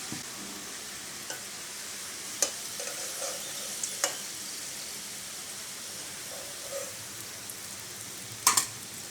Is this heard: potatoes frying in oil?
yes